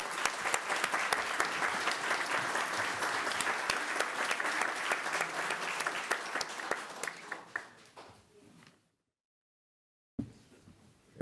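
At a school board meeting, an audience applauds steadily for several seconds, the clapping thinning and fading out, then a brief pause before faint room noise returns.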